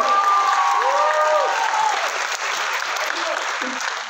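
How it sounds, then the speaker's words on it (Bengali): Loud, dense applause from a crowd, steady throughout with a few whistle-like tones over it early on and faint voices underneath. "এটা জোরে হাততালি বোঝাই যাচ্ছে"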